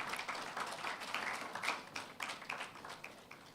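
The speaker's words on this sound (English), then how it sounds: "A round of applause for that." Audience applause at a STEM festival launch event: a steady, fairly faint patter of many hands clapping together, heard from a distance in a large room with no voices over it.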